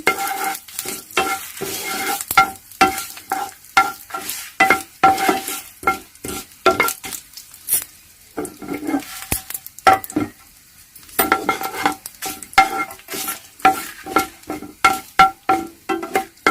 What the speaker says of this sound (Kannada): ಇದಿಷ್ಟನ್ನ ಹಾಕಿ ಒಗ್ಗರಣೆ ಮಾಡ್ಕೊಳ್ತಾ ಇದ್ದೀನಿ.